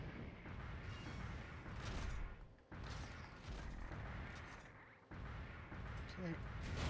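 Explosions and heavy blasts boom through a mobile suit battle in Gundam Battle Operation on PS3. They come as dense, loud rumbling bursts separated by brief drops.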